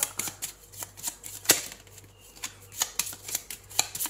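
Tarot cards shuffled and drawn by hand, a run of crisp riffling snaps and slaps in an irregular rhythm, close and clear over a faint low hum, with no talking.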